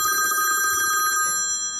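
A telephone rings loudly with steady, repeating electronic bell tones that fill the whole moment, then the ringing stops and room noise remains.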